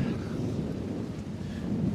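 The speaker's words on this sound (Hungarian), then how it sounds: "egyre erősödik a szél, körülbelül most már ilyen 6-os fújások lehetnek" Strong wind buffets a catamaran at sea, a continuous low rumbling roar like microphone wind noise, loud and steady for the whole stretch without clear speech.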